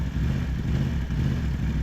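A motorcycle eases away from a stop on the clutch alone with no throttle, its steady low engine note running close and even for the whole stretch, with no talking.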